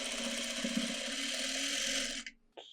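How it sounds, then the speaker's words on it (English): A sewing machine stitches a quilt string block with a steady, fast, whirring hum for about two seconds, stops briefly, then restarts. "So let's sew this block together."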